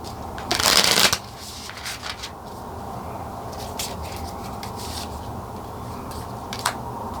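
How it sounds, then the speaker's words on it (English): A deck of tarot cards is shuffled in one quick, loud riffle near the start, followed by softer handling and light rustling sounds. "We do give this one more shuffle."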